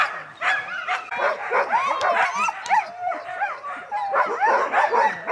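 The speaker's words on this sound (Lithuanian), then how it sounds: "Nerimsta šuniukai, nori jau lėkti." Several dogs bark, yip and whine excitedly at close range, overlapping in restless, rapid bursts without a pause.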